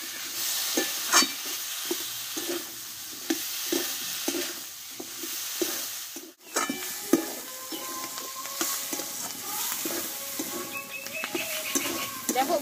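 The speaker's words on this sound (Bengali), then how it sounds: "এবার কেটে রাখা পেঁয়াজ কলিগুলো আমি দিয়ে দেবো, মশলার সঙ্গে কষতে থাকবো।" Spring onions frying with spice paste in a pan, a continuous close sizzle broken by repeated stirring scrapes and a brief pause midway, no speech.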